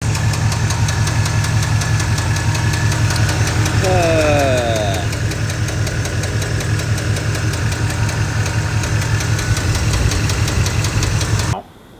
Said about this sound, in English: The truck has dropped a lifter, so it sounds really bad.